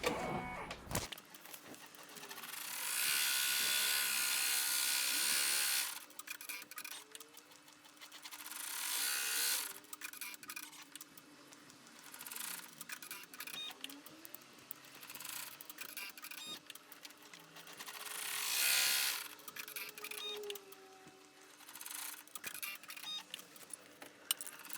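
An embroidery machine stitches placement lines onto stabilizer for an in-the-hoop bear outfit, giving a steady mechanical whir and rattle that rises and eases in several long runs, close by and with no talking.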